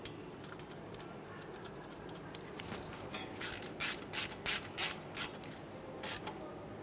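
A hand ratchet snugs a mounting bolt on the steering knuckle of a 2011-2020 Toyota Sienna, giving a quiet run of clicking with a few sharper, louder ratcheting strokes near the end.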